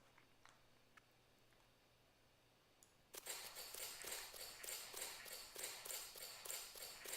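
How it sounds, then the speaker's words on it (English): Squeaky leather Foley layered over wooden footsteps in a Unity game test: after a near-silent stretch with faint ticks, a steady run of evenly spaced, crisp steps begins and carries on. "I could hear that squeaky leather."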